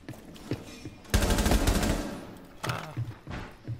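Bursts of gunfire in Rainbow Six Siege: a sustained loud volley in the middle, with a few shorter shots before and after, close and sharp.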